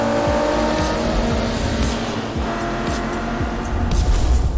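V12 race car engines roar loudly and continuously with rising and falling revs and gear-change cuts, in the Forza Motorsport racing game, heard alone without talk.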